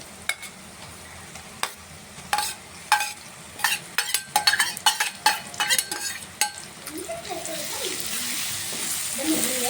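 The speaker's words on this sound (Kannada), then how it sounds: "ಈರುಳ್ಳಿಯನ್ನು ಚೆನ್ನಾಗಿ ಫ್ರೈ ಮಾಡ್ಕೊಂಡಾದ್ಮೇಲೆ ಮಾವಿನಕಾಯಿ ನಾವು ತುರಿದಿಟ್ಕೊಂಡಿದ್ವಲ್ಲ ಆ ಮಾವಿನಕಾಯಿ ಹಾಕ್ಕೊಳ್ಳಿ" Grated raw mango tossed with onions frying in a pan, sharp stirring clatters and scrapes over a soft sizzle that grows into a steadier hiss toward the end.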